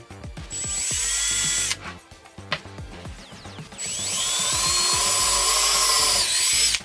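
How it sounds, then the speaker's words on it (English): Cordless power drill boring a pilot hole for mounting screws during a vehicle chassis swap, two long loud whining runs broken by short bursts, stops and ratcheting clicks, close up with no talk. "we just need to get a pilot hole started so that we know where it's going to mount, and then we'll drill it"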